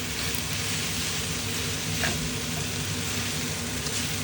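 Pancit canton noodles with chicken sizzle steadily in a hot pan while being stirred, a constant close frying hiss with faint scraping underneath.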